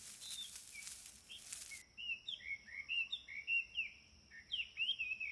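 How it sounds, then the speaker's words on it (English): Birds chirp in the trees on an African savanna in the Okavango, a series of quick, clear tweets and short calls close by against a quiet background. "Birds chirp in the trees"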